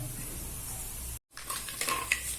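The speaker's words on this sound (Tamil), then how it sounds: "கடுகும் மணத்தக்காளி வத்தலும் சேர்த்துக்கங்க. பொரியட்டும்." Mustard seeds and dried black nightshade berries spluttering in hot oil, a brief soft crackle and pop that breaks off for a moment, then resumes with sharper snaps.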